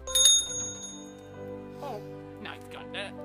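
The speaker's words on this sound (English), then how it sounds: "They bumped into the doorbell." A bright bell rings sharply at the start and its tone lingers, followed by a voice and further ringing chimes.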